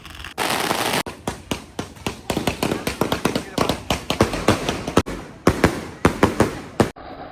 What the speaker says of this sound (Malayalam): ഉള്ള മാലപ്പടക്കങ്ങളൊക്കെ വലിച്ചു വാരിയിട്ട് ഒറ്റ കത്തിക്കില്ല, അതിൻ്റെ പുറകെ വെടിക്കെട്ടും.